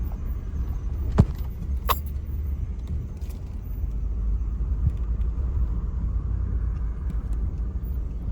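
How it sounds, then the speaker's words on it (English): A pickup truck drives up and parks on a rural building site planned for a house and garage, with a steady low engine rumble throughout, a few brief jingling clicks near the start, and no talking. "right here where you see me parking the truck"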